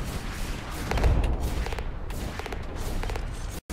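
Turret gunfire in the mech game Hawken, rapid repeated shots in short bursts at moderate distance over a rumbling game background.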